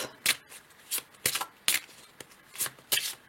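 A deck of cards shuffled by hand in a quiet room, then a card drawn: repeated soft riffling bursts about every half second, close and fairly faint, with no voices.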